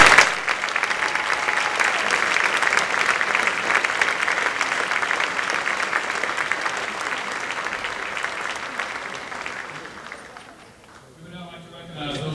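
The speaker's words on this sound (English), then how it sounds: "Let's give these students a nice round of applause." An audience at a high school academic awards ceremony claps steadily for honored students, a dense, even round of applause that fades out near the end as a voice begins.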